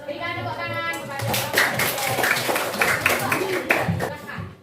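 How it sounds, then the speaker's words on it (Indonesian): Clapping from a classroom audience applauding a student group, a brisk run of claps with a teacher talking over it. "Berikan tepuk tangan kepada"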